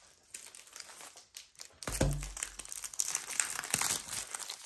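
Plastic packaging around a diamond painting canvas crinkles and crackles in dense, close bursts, starting soft and growing louder and steadier through the second half.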